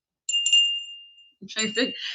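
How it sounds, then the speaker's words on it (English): A small Christmas bell is rung, giving two quick bright strikes followed by a clear ringing tone that fades out. A person then starts talking. "Okay, so I'm gonna ring my bell."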